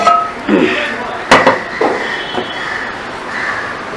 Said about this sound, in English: So let's open the lid.